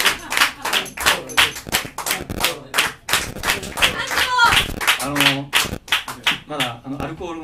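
An audience at a live bar show in Takaoka, Toyama, claps along in rhythm, with sharp, close handclaps in a steady beat mixed with talking and laughter.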